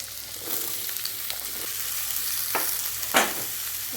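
Cut potato and bottle gourd sizzle steadily in hot oil in a pan, with a spoon scraping and stirring through them in a few sharp strokes.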